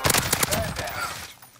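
Rapid bursts of gunfire in a video game, dense repeated shots crowding the first half, then thinning into a rumble that stays fairly loud.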